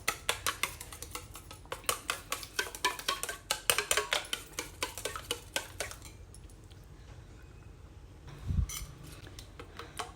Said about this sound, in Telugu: దీన్ని బాగా గిల కొట్టుకోవాలి ఇట్లా చల్లలాగా వేసుకోవాలి